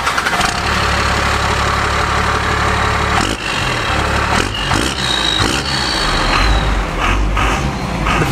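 A loud, deep truck engine with an aftermarket exhaust rumbles continuously. It runs rough and throaty and gets a little louder near the end, with no one talking.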